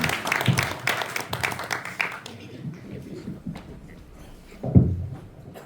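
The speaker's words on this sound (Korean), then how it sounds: "큰 박수로 맞이해 주시기 바랍니다" An audience at a book concert bursts into clapping to welcome speakers to the front, with dense, loud applause for about two seconds before it thins out into scattered claps and room noise.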